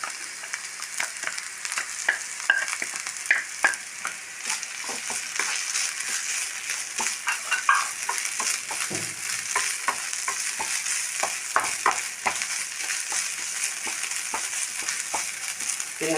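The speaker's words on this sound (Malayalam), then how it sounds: "നമ്മൾ വെച്ച സവോള നേരിയതായിട്ട് ഫ്രൈ ആയി തുടങ്ങി" Thinly sliced onion and grated coconut fry in a pan with a continuous, moderately loud sizzle, broken up by frequent scraping and stirring sounds.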